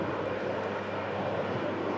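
An EasyJet airliner on a Charles de Gaulle flight gives off a steady, even engine roar, fairly loud and continuous throughout.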